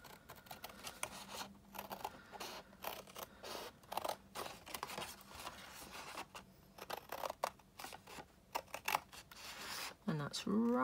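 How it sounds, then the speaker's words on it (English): Scissors snip through card for a box lid, a run of close, crisp crunching cuts in an irregular rhythm, with a brief rustle near the end. "I'm just going to do it with some scissors."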